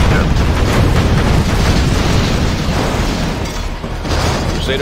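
Dense, continuous rumbling explosions and booms fill a battle in the real-time strategy game Command & Conquer Generals, loud and layered throughout with no clear gaps.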